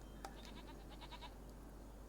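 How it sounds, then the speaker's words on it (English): Baby goats bleat in a pen in the farming game Farming Simulator 25, a string of short, thin bleats over a steady low background hum, fairly faint and with no talk. "I want to move the baby goats that are in this pen into another pen"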